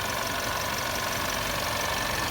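Steady engine hum from a 2021 Ford Explorer Timberline's 4-cylinder turbo, rated at 300 horsepower, heard idling close up at a constant level with no talk over it.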